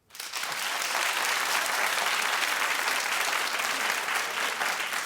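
A television talk show studio audience breaks into loud applause that starts suddenly and holds steady, dense and even, with no talking over it.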